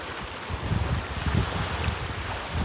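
Wind gusts across the Lake Ohrid beach in a steady, fairly faint roar with low buffeting bursts, and no voices.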